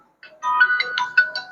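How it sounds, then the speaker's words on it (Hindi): A mobile phone ringtone plays a short bright electronic melody of quick stepped notes, lasting about a second after a brief silence, clear and alone. "फोन आ रहा है।"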